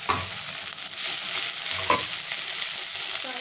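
Chopped onion and coriander fry in hot oil in a pan, making a loud, steady sizzle broken by a few scraping stirs of a spoon.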